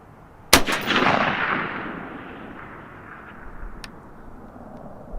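A rifle fired at an outdoor range with a Tract Toric 1-8x LPVO scope goes off in a single loud, sharp shot, followed by a long echoing rumble that slowly fades and a faint distant impact.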